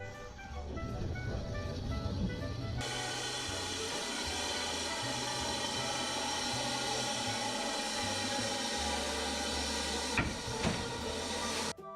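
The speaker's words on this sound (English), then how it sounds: "I saw their Black 5 Camelot steam in and run around the train." Black 5 steam locomotive Camelot at East Grinstead on the Bluebell Railway, a continuous hiss of steam with low rumbling, rising sharply after a quiet start and holding steady at a moderate distance.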